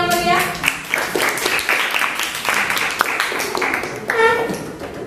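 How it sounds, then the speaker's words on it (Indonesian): Classroom audience applause, a short lively burst of clapping with voices and tonal chatter mixed in, swelling again near the end. "Oke, beri tepuk tangan yang meriah."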